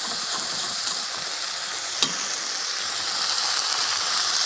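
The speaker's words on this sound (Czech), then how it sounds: "Zelenina by měla zůstat hezky křupavá, proto ji nebudu restovat dlouho." Vegetables stir-frying in a wok, kept crisp with a quick toss, with wok sauce added, giving a steady bright hiss and sizzle throughout and a single small clink near the middle, with no speech.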